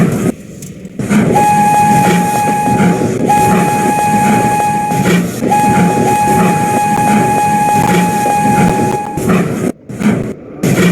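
A train running toward Strasbourg, with steady loud rolling rumble and rail noise throughout and a sustained horn-like whistle tone sounding in long stretches.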